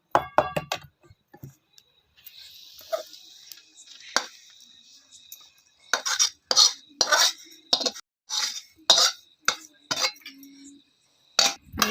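A sesame and jaggery mixture stirred in a pan for tilachi vadi, with a spoon scraping and clinking against the metal, first in scattered strokes and then in a quick run of close, sharp strokes.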